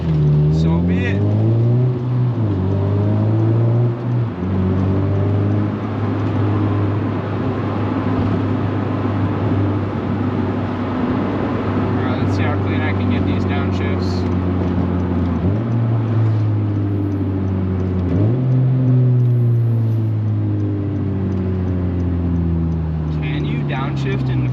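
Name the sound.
Honda Civic engine running while driving and downshifting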